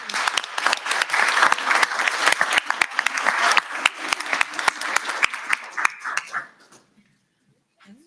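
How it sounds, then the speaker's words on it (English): An audience at a Yukon Public Schools event gives a big round of applause, loud dense clapping close to the microphone that carries for about six seconds before tapering off into silence, with a brief voice at the end. "So big round of applause for them."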